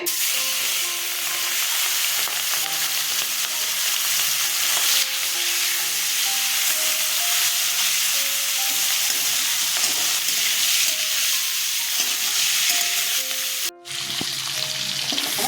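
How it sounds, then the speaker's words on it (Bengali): Prawns fry in mustard oil in a hot wok, giving a loud, continuous sizzle that stays steady throughout with no talking. "কড়াই গরম হয়ে গেছে সর্ষের তেল দিচ্ছি মাছগুলো ভেজে নেব মাছগুলো ছেড়ে দিচ্ছি"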